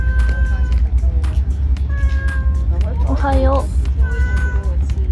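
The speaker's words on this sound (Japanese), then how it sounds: "あ、早速猫がいる。" A cat on Naoshima island meows several times, short clear calls spaced a second or so apart, close by over a steady outdoor rumble, while a person speaks briefly in between.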